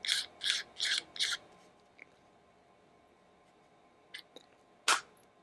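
A phone camera lens is screwed back together by hand, giving four quick rhythmic rasping twists up close, then quiet with a few faint clicks and one last short scrape.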